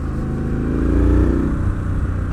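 A 2020 Triumph Street Scrambler motorcycle engine revs in the rain, a close, steady low rumble that swells briefly in the middle and settles back down.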